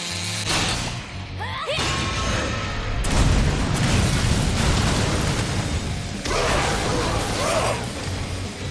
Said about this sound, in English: Jeez, it sucks when things explode.